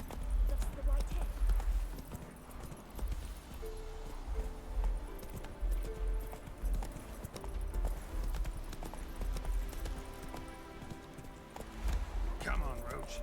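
Horse hooves clip-clopping in the video game Witcher 3, a steady rhythmic trot of thuds running throughout, close and fairly loud, with a voice talking over it and occasional game sounds.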